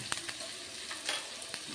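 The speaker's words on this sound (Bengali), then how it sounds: "আলু গাজর আগে ভেজে নিচ্ছি।" Potatoes, carrots and onion fry in a pan for a cabbage dish, a steady moderate sizzle punctuated by several brief scraping stirs of a utensil.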